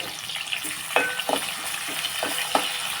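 Steady sizzling of broad beans (chikkudukaya) frying in a pan, with a few louder scraping clinks of a spatula stirring at irregular intervals.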